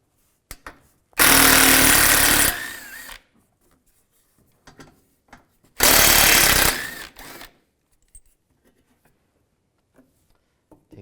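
Power tool spinning a 10mm socket to remove bolts under a 2015-2020 Cadillac Escalade headlight, two loud close bursts of about two seconds each, separated by quiet clicks and handling noises.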